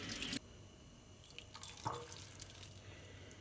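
Water runs from a kitchen tap as a bowl is washed under it, giving a soft steady trickle with a brief louder splash at the start and a small clatter midway.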